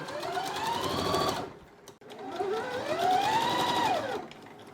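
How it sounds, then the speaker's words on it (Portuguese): A sewing machine stitches fabric with piping, using a zipper presser foot. It runs in a steady, close, whirring hum, pauses briefly near the middle, then runs again with a rising and falling motor pitch. "E eu vou costurar o meu tecido até o final e já mostro pra vocês o resultado."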